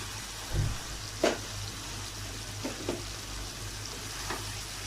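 Fried prawns and cauliflower go into a pan of sizzling masala. A couple of soft thuds and clatters land as the pieces drop in, over a constant hiss of frying oil.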